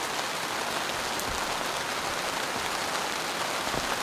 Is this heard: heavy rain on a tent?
yes